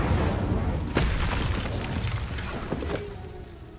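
The Incendio fire spell goes off in Hogwarts Legacy, producing a dense, noisy whoosh of flame with a sharp burst near the start and another later, loud and close amid game ambience, with no talking.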